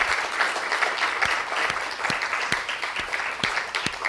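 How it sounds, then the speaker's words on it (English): An audience applauds steadily in a room, dense even clapping from many hands with a few sharper individual claps standing out, moderately close and sustained throughout. "can we give a round of applause for Mel Heidenreich"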